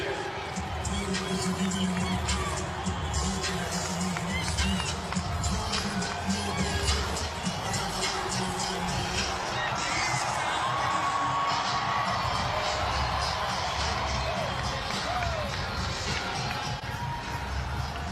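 A football stadium crowd roars and cheers as Inter Miami, led by Lionel Messi, take the pitch for the MLS season opener, a loud sustained wall of cheering and whistles under an announcer's voice.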